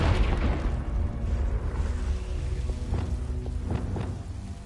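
A Confringo blasting spell explodes in Hogwarts Legacy, a loud booming burst followed by rumbling debris and several smaller crackling pops trailing off over a few seconds.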